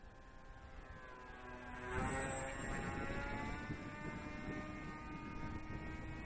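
A Ranger G2 RC plane fitted with an 8x4 propeller flies past, its electric motor whine rising to a peak as it sweeps closer, then droning steadily at a moderate distance.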